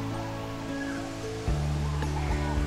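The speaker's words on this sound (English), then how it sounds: "Our waterfall is 35 meters from here." Steady rushing water from a waterfall fills an indoor aviary with a continuous broadband roar, while faint bird calls and a few soft knocks sit on top of the wash.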